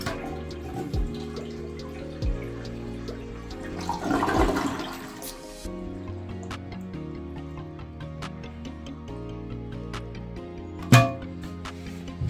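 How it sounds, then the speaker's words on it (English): A toilet is flushed to empty its tank ahead of a bidet attachment install, with a swelling rush of water midway, then trickling and refilling, plus a sharp clunk near the end. "We're going to do that by giving the toilet a couple flushes."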